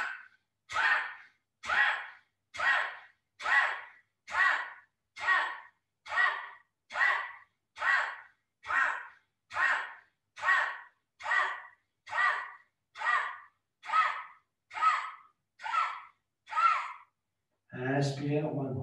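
Forceful yoga breathing exercise in a Hatha yoga session: about seventeen sharp, evenly spaced nasal exhalations pump out one after another in a steady rhythm, close and clear, followed by a brief spoken voice at the end.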